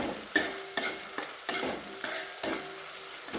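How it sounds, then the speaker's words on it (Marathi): A spatula stirs tomato and curry leaves sizzling in a pan for dhaba-style dal tadka, with sharp scraping strokes repeating about every half second over a steady fry hiss. "टमाटो पण चांगला परतून द्यायचा थोडा कढीपत्ता घालूया"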